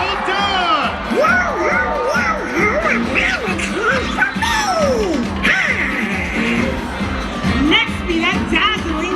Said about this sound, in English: Please give a big Buccaneer cheer for Pirate Donald